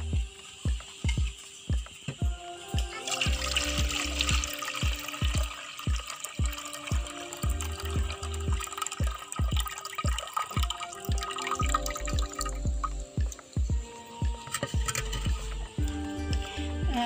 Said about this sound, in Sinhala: අපි දැන් මේ අට්ටික්ක තඹපු වතුර ටික වෙනත් භාජනයකට බේරගමු.